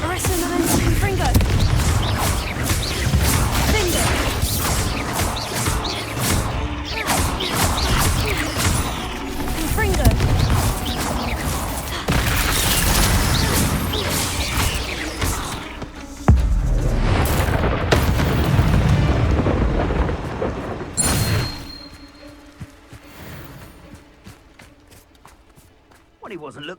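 Confringo blasting-spell explosions in the wizarding game Hogwarts Legacy boom loudly through dense, continuous battle noise, with voices speaking throughout before the din drops away near the end.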